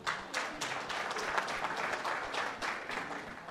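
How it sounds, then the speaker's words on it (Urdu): Applause from the audience at an Urdu mushaira poetry gathering in Dallas, a steady, crowded burst of clapping heard throughout at a moderate level. "تو میں چاہتا ہوں کہ آپ سب لوگ اپنے لیے تالیاں بجائیں"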